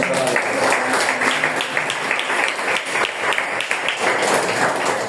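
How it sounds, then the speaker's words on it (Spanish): A church congregation claps together in praise during a Spanish-language service, a dense, steady wash of many hands that fills the room for the full stretch without pause. "Dale palmas a Dios."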